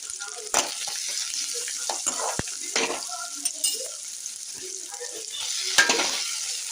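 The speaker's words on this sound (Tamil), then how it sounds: "சேர்த்து விட்டு இப்போ நல்லா வதக்கி பாருங்க" Onion and green chilies sautéing in a pan, salted for a bottle gourd dish, a soft sizzle broken by repeated spoon scrapes and taps against the metal pan, no talk.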